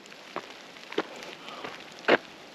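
Rain falls in a mountain forest along the Tour des Écrins trail, a soft, quiet patter with a few sharper drops standing out, heard alone without voices.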